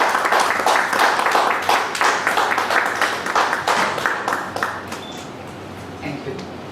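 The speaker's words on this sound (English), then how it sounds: "Can we have a big round of applause?" A room of attendees at a professional members' meeting on supply chain risk and compliance claps steadily, a dense roll of hand claps that gradually thins and fades toward the end, with a voice briefly heard as it dies down.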